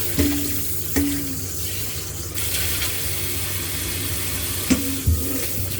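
Running water pours steadily from a tap as vegetables are washed in a sink, with a few sharp clinks and knocks of handling over the continuous splashing flow, no talk.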